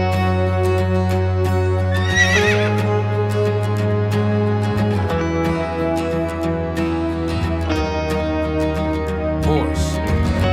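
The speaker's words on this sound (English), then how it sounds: "Horse." A horse neighs over steady background music, a strained whinny rising briefly near the start and standing out alone among the sustained tones.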